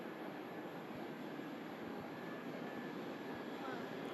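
Distant Virgin Atlantic Airbus A330 airliner at Manchester Airport, a steady broadband jet roar that holds evenly throughout without a clear rise or fall.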